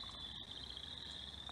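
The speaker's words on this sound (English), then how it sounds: "Our next frog is northern leopard frog, and I'm listening to the call there as it's kind of a low guttural" A northern leopard frog calls with a low guttural snore, steady and fairly faint against an outdoor spring chorus with a constant high insect-like trill.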